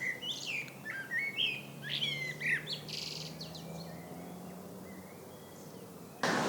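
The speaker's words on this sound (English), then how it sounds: "Birds come out and build nests while chirping." Birds chirping in a botanical garden in spring, several bright tweets and short trills over the first few seconds against a soft outdoor background, then quieter, with no talk.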